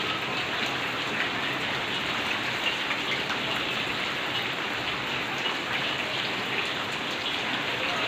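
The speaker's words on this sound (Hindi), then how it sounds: "बहुत तेज़ बारिश शुरू हो गई है।" Heavy rain pours steadily onto outdoor surfaces, a dense, loud and unbroken hiss of drops with no voices.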